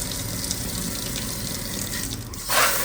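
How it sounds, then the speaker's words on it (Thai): Water runs steadily from a swivel multi-function kitchen sink faucet, a constant hiss and splash that brightens near the end as the spray pattern is switched. "ก๊อกน้ำมันติฟังก์ชันแบบนี้ผมชอบมากเลยนะครับ บิดไปปุ๊บมันก็จะเป็นอีกแบบหนึ่ง"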